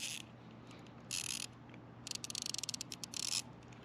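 Clicking ratchet of a GOYOJO quarter-inch-drive torque wrench with a tight swing radius, heard up close as short bursts and then a rapid run of sharp clicks, with no talking.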